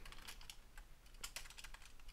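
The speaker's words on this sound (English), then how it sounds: "my typing is atrocious" Quick, uneven typing on a computer keyboard, with soft clustered key clicks and a few sharper taps, fairly quiet and close, with no voices.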